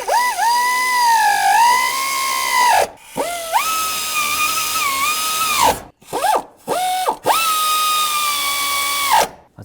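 Cordless power tool running in loud bursts as nuts are driven onto air pump bracket studs on a 2000-2005 Buick LeSabre, with a whining pitch that rises and falls, several separate runs with short pauses between them.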